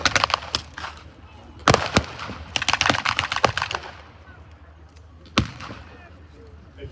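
Heavy machine gun fire in wartime footage comes as sharp, loud bursts of rapid shots with scattered single cracks between them, while a voice talks over parts of it.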